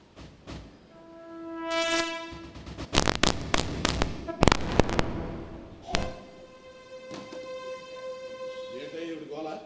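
A staged train effect for a Telugu stage drama about general railway coaches: a horn blares with sustained tones, then loud rhythmic clattering bursts of passing wheels and carriages before the horn returns, with voices heard over it.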